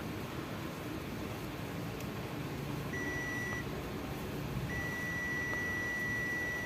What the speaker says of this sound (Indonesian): cari dengan AVO mode buzzer.